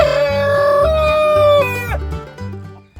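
Chickens and a rooster in a backyard coop: a loud, close rooster crow rings out over steady clucking from the flock, with a few shorter calls trailing after.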